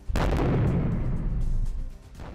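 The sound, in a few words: Hezbollah rocket attack explosions in news footage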